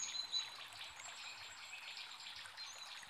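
Water trickling as a cartoon story sound effect, a soft continuous dribbling trickle with faint bird-like chirps, quiet and steady throughout.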